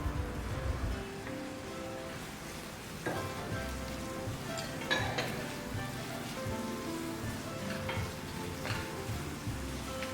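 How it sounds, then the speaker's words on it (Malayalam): Onion and chopped capsicum sauté in a pan for a hotel-style fish chilli, with a steady close sizzle, frequent scraping stir strokes and clinks throughout, and no voices. "ഇനി അതിലേക്കൊരു ചെറിയ ക്യാപ്സിക്കവും ചെറുതായി മുറിച്ചത് ചേർത്ത് കൊടുത്ത് നന്നായി വഴറ്റിയെടുക്കാം"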